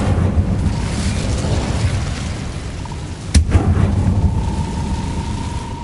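The Incendio fire spell is cast in Hogwarts Legacy on PS5: a steady, loud roaring rumble with one sharp burst partway through, then a continuing whoosh.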